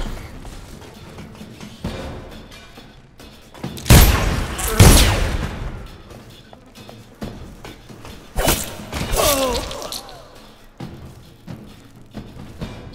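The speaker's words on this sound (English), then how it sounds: "Well, pistol time." Pistol shots ring out in the video game Dishonored as several loud, booming bursts around four to five seconds and again near nine seconds, set against quieter game ambience.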